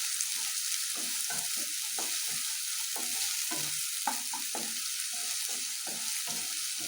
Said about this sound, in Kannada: ಈರುಳ್ಳಿ ಹಾಕಿ ಸ್ವಲ್ಪ ಚೆನ್ನಾಗಿ ಕೈ ಆಡಿಸ್ಕೊಳ್ಳಿ